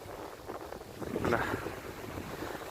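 Low engine rumble of a fishing boat over wind buffeting the microphone, steady throughout with a slight swell in the middle.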